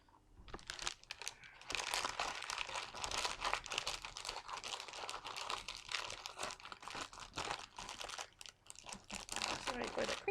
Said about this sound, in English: Sorry for the crinkle.